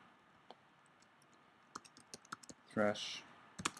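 Keystrokes on a computer keyboard during a Python scripting session: sparse, light clicks, then a quick run of taps, with a short burst of speech in the middle and a couple more clicks at the end.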